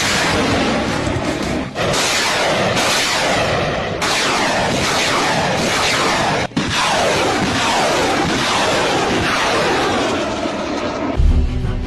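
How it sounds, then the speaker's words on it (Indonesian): A Norinco Type 90B multiple rocket launcher with 40 tubes fires in rapid succession, each launch a loud roaring whoosh that trails off and overlaps the next in a continuous, close, thunderous barrage. "artileri ini juga memuat 40 peluncur roket yang mampu menembak secara simultan"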